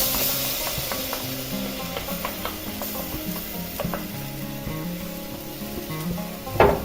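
Tomato stirred into a sizzling caramelized homemade pizza sauce for a pork matambre, a continuous frying hiss with scattered clinks and scraping of a utensil, ending in a louder clatter.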